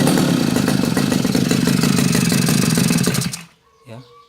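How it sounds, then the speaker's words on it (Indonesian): A brush cutter engine runs after its carburetor has been adjusted, giving a loud, steady, rapid buzzing clatter for about three seconds before it cuts off. A short voice follows in the quiet afterward. "kita lihat jadi mesin sedikit bergetar dan mengeluarkan banyak asap"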